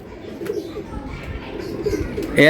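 Giribaz pigeons cooing softly in a cage, low throaty coos close by with light rustling and a louder burst at the end.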